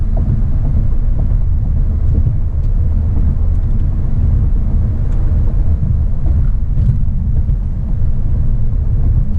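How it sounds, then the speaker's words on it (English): A 2020 VW Jetta GLI turbo sedan heard from inside the cabin while driving: a steady, loud low rumble of engine and road noise with faint wind hiss. No distinct turbo whine stands out, and no one speaks. "You get slight turbo noise inside the cabin"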